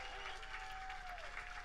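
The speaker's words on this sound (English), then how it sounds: "big round of applause" Audience applause at an evening talk at the Music Box Supper Club in Cleveland, a steady wash of clapping from a crowd lasting under two seconds, fairly faint and continuous with a faint tone running through it.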